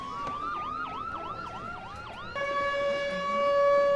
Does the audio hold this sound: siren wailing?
yes